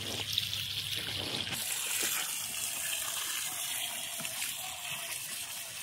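Water trickling and flowing steadily out while potatoes are washed, a soft continuous running stream with a brief splashier start, fairly faint and with no talk.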